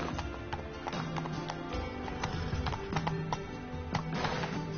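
A horse gallops in The Witcher 3 on PS4, with hooves pounding in a fast, rhythmic clip-clop that stays loud and close throughout.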